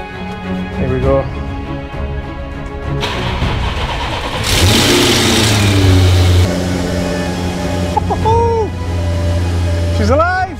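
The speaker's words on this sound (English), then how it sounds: "Turn the ignition on." An Audi RS6 with the 4.0 TFSI engine, parked on a ramp after a thermostat replacement and coolant refill, cranks and fires up, then revs sharply before settling, loud and close, with someone talking over it.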